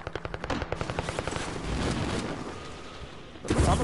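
Rapid automatic gunfire from the video game Warzone rattles in a fast loud burst, followed by a dense roar of shots and a heavier blast at the end.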